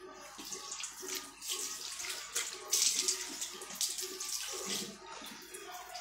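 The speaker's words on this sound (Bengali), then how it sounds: "চলে এবার একটু মুখটা হালকা ধুয়ে যায় গরমের মধ্যে" Tap water runs steadily into a sink during face washing in hot weather, a continuous close splashing and gushing stream with small fluctuations throughout, no talking.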